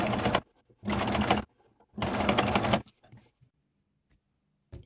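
A sewing machine topstitches fabric in three quick bursts of rapid stitching separated by short pauses, close and clear, with a few faint clicks afterward.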